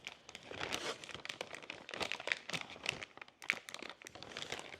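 A plastic piping bag with a decorator tip being handled for cookie decorating, giving close, continuous crinkling and rustling with irregular louder crackles, and no voice.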